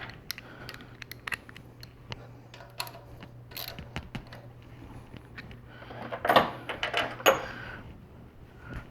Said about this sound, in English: If everything is good, tighten the bolts.